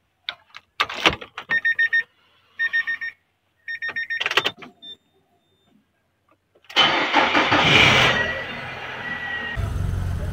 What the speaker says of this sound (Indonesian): RPM langsung naik, Mas.